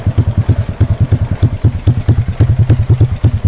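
Modenas Kriss motorcycle engine tuned for speed, idling and running close by with a steady, rapid rhythmic thumping pulse and some clattery crackle throughout, no voices.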